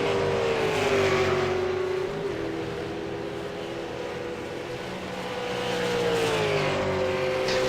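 Ford Falcon race cars in a racing video game, including a Peak Performance number 29 car, give a steady engine drone that rises and falls in pitch as the cars run laps at speed.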